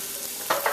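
Freshly cut callaloo greens hit hot oil in a big pan, giving a loud, close sizzle with sharper crackling bursts as they are stirred in.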